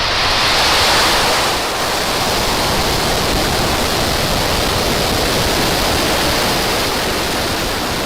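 Falcon 9 rocket launch in September 2020, a steady, loud broadband roar that holds strongly throughout without a break, no voices over it.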